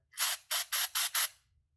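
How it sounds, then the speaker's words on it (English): Aerosol cleaner sprayed onto a throttle body and MAF sensor filament in five short hissing bursts, close and loud, with brief pauses between each spray and nothing else heard. "So I'm just gonna spray this right there, and also the filament inside."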